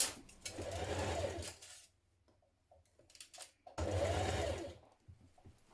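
A sewing machine stitches a blouse seam in two loud, even bursts of about a second and a half each, separated by a quiet pause with faint handling sounds.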